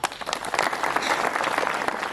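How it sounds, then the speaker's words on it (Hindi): A brief burst of audience applause at a public gathering in Madhya Pradesh: many hands clapping at once, loud and even throughout, with no pause and no talking heard over it. "तालियाँ"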